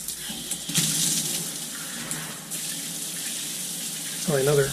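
A newly installed massaging shower head sprays water on its gentle rain-like trickle setting, a steady hiss of falling water that is close and fairly soft, with someone speaking briefly at the start and end.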